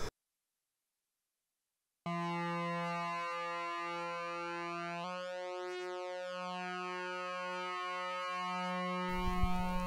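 Modular synthesizer oscillator tones, driven by a Verbos Quantizer/Shift Register Model 263v Buchla module, hum steadily after a short silence, their pitches shifting and sweeping as layered synth voices blend, with a brief noisy burst at the end.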